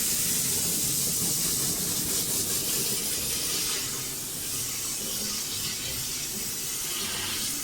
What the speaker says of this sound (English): I spray it with my spray washer until I start seeing the water come out clear below